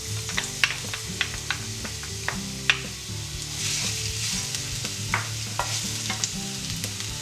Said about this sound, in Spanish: Ponemos una sartén al fuego con un poco de aceite y ponemos dentro el ajo.